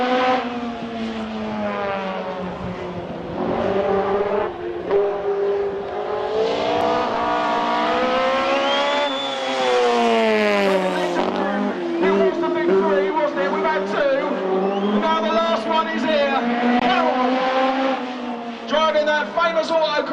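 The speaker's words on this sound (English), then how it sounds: "Famous autocross Mark II Escort then, and it looks like he can get it sideways just as he always did." A Mark II Ford Escort autocross car being driven sideways at a speedweekend race meeting, its engine droning and revving steadily underneath continuous loud commentary from an announcer.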